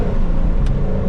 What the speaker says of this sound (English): I love how Ford like tuned the cars from the factory to like start spitting and spatting.